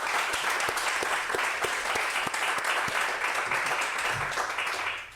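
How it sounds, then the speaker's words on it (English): Audience applause at a live interview event, a dense, steady round of clapping from many hands that holds at full strength for several seconds before tapering off at the end. "can we all give Jean a huge round of applause?"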